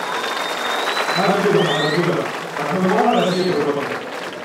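An audience applauds at a South India kabaddi tournament winning ceremony, a continuous wash of clapping that swells twice under someone talking over a loudspeaker, with a few whistle-like tones on top.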